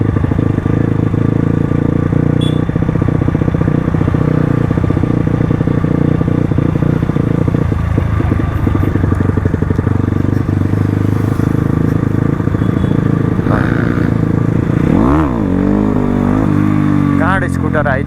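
Crossfire RM250 motorcycle riding on a road, engine droning continuously and loudly with rattling and wind noise close by, while people talk over it.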